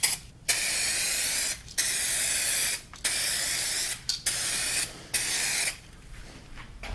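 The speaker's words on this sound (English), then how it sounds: "It's gotten a little tacky, and we'll hit it with a second coat." A steady aerosol hiss sprays a second coat onto a car headlight lens in several long bursts, each lasting about a second, broken by brief gaps, close and loud with no voices.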